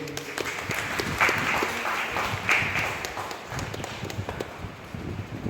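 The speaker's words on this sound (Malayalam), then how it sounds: "എല്ലാവരും ഒന്ന് കൈയടിച്ച്." An audience claps for the winners at a 2025 drawing competition prize ceremony. The applause is a continuous patter of many hands at moderate loudness, rising and falling slightly over several seconds.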